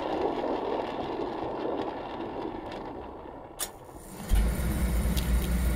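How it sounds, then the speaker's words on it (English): A basement furnace roars steadily with a broad rushing drone, and near the end it shifts to a deeper, louder rumble as it keeps running. No voices are present. "That is my furnace, because I do paint in my basement."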